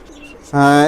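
Pigeons cooing: a Benaras hen and a traditional Khulna Chot cock. After a quiet start, one short, loud, throaty coo sounds close by.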